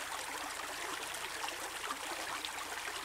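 Steady, gentle trickling of spring water, a continuous soft babble with no other sounds.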